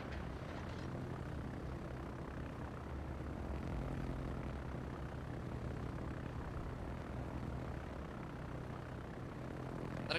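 Torpedo bomber aircraft in the naval game World of Warships, droning as a steady propeller-engine hum throughout, with no breaks or distinct passes.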